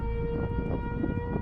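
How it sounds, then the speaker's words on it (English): Tornado warning sirens wail in the Moore, Oklahoma area, a steady, droning multi-tone blare that holds level throughout, heard from a distance over low outdoor rumble. "tornado sirens in the general area go off."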